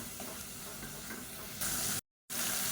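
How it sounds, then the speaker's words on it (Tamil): Onion paste sautés in oil in a pan for an eggplant biryani, giving a soft, continuous sizzle and hiss that grows brighter near the end, broken by a short silent gap. "அடிப்பிடிக்காமல் நல்லா மீடியமான ஃப்ளேமில் வதக்கிக்கோங்க"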